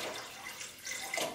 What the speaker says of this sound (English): just pour the water in the pot